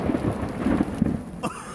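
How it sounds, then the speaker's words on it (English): Thunder rumbles through a stormy woodland campsite on the Ozark Trail, a low continuous roll with rain noise, building to a sharper crack near the end. "So we got a little lightning going on here."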